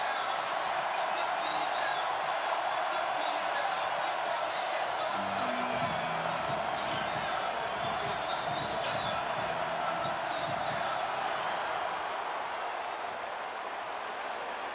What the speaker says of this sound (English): listen to one of the great crowds in college football